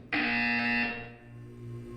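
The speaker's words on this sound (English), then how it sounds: "When you hear the buzzer, look up at the ceiling." A loud, harsh electronic buzzer in the video game Portal 2 blares for just under a second, then fades into a lingering low hum.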